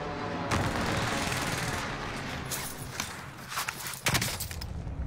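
Sniper gunfire in the video game Call of Duty Warzone: a sharp crack opens the clip, then several more loud, close shots land near the end over a dense, constant bed of battlefield noise.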